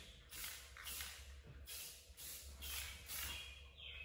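Short bursts of aerosol spray, a light first coat applied to a car headlight during restoration, hissing in repeated passes, close and fairly quiet, with no talking.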